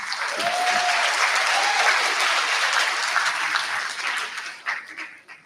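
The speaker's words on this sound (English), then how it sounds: "Give yourselves a huge round of applause." Loud, dense audience applause with cheering for contestants at a Mr. AP 2025 pageant-style show, sustained for several seconds, with a brief whistle early on, then tapering off at the end.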